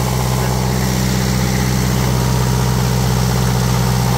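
An Onan 12.0 DJC generator engine runs under load from electric heaters, a loud steady low drone with a constant pitch and even throb close by, alone without talk.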